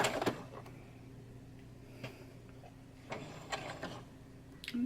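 A sewing machine runs in short bursts while stitching the third strip of a fence rail quilt block, with soft mechanical ticking and whirring pulses between quieter pauses, recorded close up.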